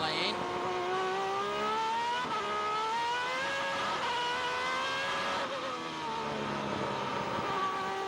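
Superleague Formula race cars lapping the Estoril circuit in hot sun with worn tyres, their engines droning continuously with rising and falling pitch as they accelerate and shift, under steady commentary.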